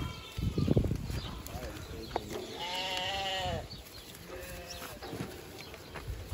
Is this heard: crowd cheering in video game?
no